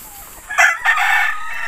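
A chicken being bathed lets out a loud, close, strained squawking call lasting about a second, rising sharply and then trailing off, with no talking.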